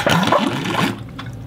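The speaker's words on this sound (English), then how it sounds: "I think I'm gonna take this straw and blow the water down into the balloon." A gurgling, bubbling rush of water blown through a straw into a balloon, loud and close, trailing off into faint drips.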